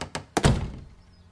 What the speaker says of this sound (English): there was a loud thud on the other side, like someone had run into her door